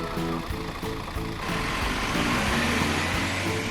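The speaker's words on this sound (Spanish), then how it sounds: "Este es un camión de transporte." A large transport truck with a big trailer drives steadily by, a continuous low engine rumble and road noise holding at an even, fairly loud level throughout.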